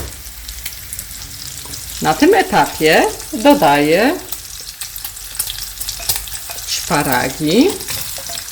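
Bacon and asparagus frying in a pan on a gas stove, a continuous soft sizzle running throughout while a person speaks over it in short phrases.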